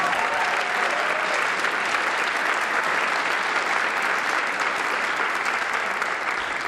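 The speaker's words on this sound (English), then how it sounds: "get a round of applause for Damien, Berexica, and everyone here in the music faculty at Lawrence High School" An audience at a Lawrence High School jazz ensemble concert breaks into sustained applause, a loud, even wash of many hands clapping together that carries on without letup for several seconds.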